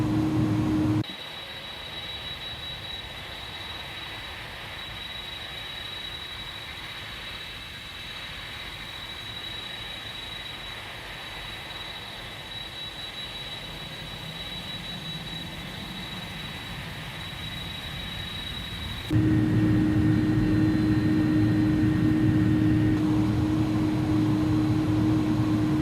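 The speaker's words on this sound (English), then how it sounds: "Listen to those engine sounds." Steady whining roar of Airbus A300-600R jet engines from the iniBuilds add-on in the X-Plane 12 simulator, a constant tone with a high whine that jumps louder late on as thrust increases.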